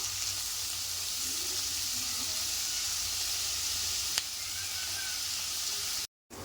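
Onions frying in a pan until brown give a steady, dense sizzle that holds level throughout, with a brief tick partway and a short gap near the end, no voices.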